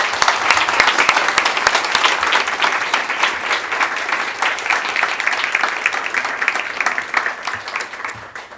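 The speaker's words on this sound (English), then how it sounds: "I just think we give Jørgen a warm applause for thanking him." An audience at the Nobel Peace Center gives steady, full applause that lasts several seconds and then tapers off at the end.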